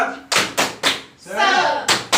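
A group claps in a quick rhythmic pattern during a training session. Loud bursts of hand claps come close together, broken by a short stretch of chanting voices.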